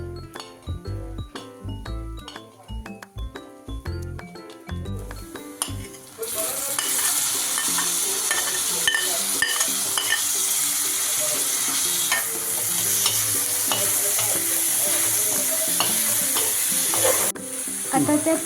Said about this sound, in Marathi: तेल गरम झाल्यावर त्यात कांदा फ्राय करायला घेऊया.